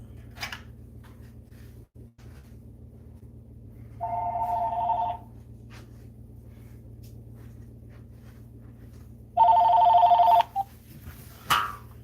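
Ringback tone on a call-in radio show line: two separate electronic rings spaced several seconds apart over a low steady hum, with no one speaking.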